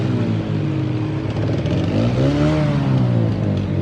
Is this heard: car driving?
yes